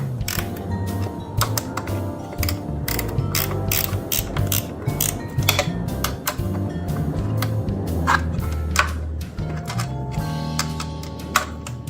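Wrench ratcheting a vibrating bolt tight, a rapid series of close, sharp mechanical clicks coming in uneven bursts over a low rumbling background.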